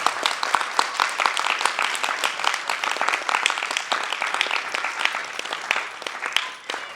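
Applause from a theatre audience at a drama festival performance in Bhopal, greeting the director and cast on stage; crisp individual claps stand out within a lively, moderately loud ovation that runs steadily throughout.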